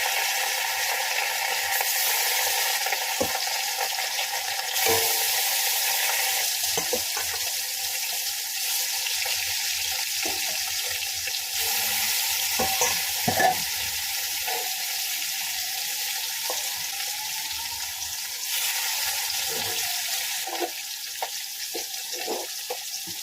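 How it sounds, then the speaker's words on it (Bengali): Salted, turmeric-rubbed catla fish pieces frying in hot oil, a continuous hissing sizzle with scattered pops and a few clinks, without speech. "মাছগুলো আমি ভেজে নেব। তেল গরম হয়ে গেছে।"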